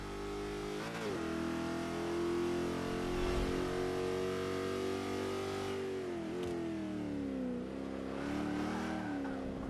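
Chevy Nova race car engine in the Forza 5 racing game, driven on the Indianapolis GP circuit. The engine drones steadily at a high pitch, its revs rising and dipping through gear changes, with no talk over it.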